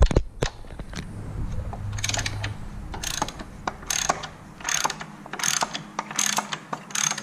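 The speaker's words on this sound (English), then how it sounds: "now you need a 7/16 socket to take off the two main bolts holding on the air cleaner cover" A 7/16 socket ratchet works air cleaner cover bolts loose on a 2019 Harley-Davidson Road Glide, giving quick bursts of close, crisp clicking with short pauses between strokes.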